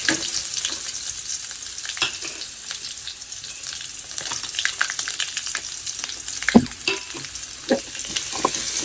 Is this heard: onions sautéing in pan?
yes